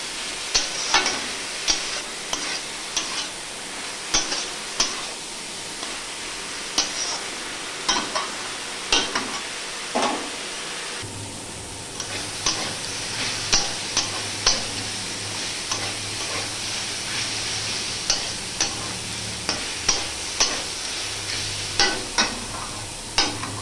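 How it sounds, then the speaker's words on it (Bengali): Boiled potato and cabbage are sautéed with spices in a pan, a continuous sizzle with regular rhythmic scraping and tapping of a spatula throughout, fairly loud and close. "দিয়ে দিলাম সেদ্ধ করে রাখা আলু, বাঁধাকপি। ভালো করে আমি কষে নিচ্ছি।"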